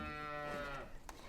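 A cow on a farm lets out one long, close, harmonic moo that fades out, followed by a short knock.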